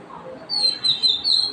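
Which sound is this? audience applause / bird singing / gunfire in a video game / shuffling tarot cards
bird singing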